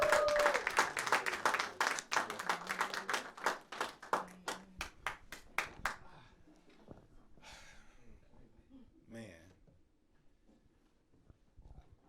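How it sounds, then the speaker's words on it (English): Audience applause at a live Chicago storytelling event, greeting a 29th Ward alderman candidate: a short burst of crisp clapping from a small crowd that thins out after a few seconds, followed by faint rustling and a brief voice. "Give him a round of applause"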